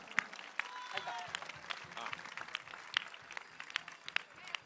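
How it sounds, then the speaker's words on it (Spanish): Scattered crowd applause at a political rally in Rosario, Santa Fe, faint and distant with sharp individual claps and voices underneath. "Fuerte el aplauso"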